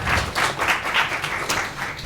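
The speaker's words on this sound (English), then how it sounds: "So round of applause." Brief, close audience applause at a women-in-planning panel discussion, a dense patter of clapping hands that rises and dips in small waves across two seconds.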